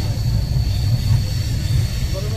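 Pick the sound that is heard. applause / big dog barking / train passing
train passing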